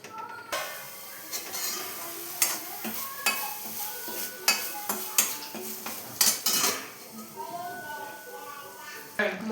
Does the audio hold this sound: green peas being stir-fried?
yes